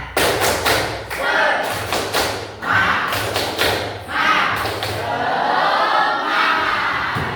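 A classroom of pupils performs a rhythmic clapping chant, bursts of claps in a patterned beat mixed with children's chanted voices, loud and close, with short pauses between phrases.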